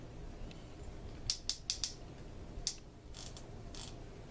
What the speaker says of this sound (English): When you turn the screw in, it tightens the drag.